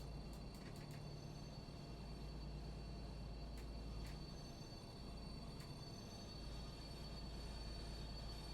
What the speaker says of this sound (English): As we are braking for our first stop of Aschaffenburg Hochschule